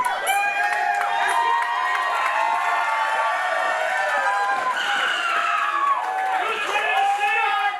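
Energetic wrestling event crowd cheering and shouting during a match, a continuous roar of voices with high whoops and yells rising and falling throughout.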